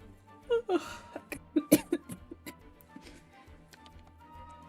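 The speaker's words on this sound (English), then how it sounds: "sorry about that if I'm coughing in your ears" A streamer coughing in short, scattered bursts, some close together and a couple louder than the rest, with quiet breathing and small clicks between them.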